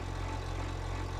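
A steady, low, droning New Holland tractor engine idling in a farming video game. The hum is even and continuous, with no revving.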